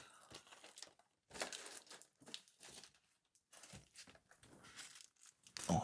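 A small plastic bag crinkles up close in irregular bursts of rustling, separated by brief quiet gaps.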